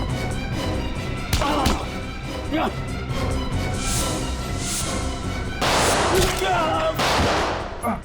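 Several sharp gunshot cracks ring out outside at irregular intervals amid tense, hurried voices and a busy, noisy background in a TV crime drama.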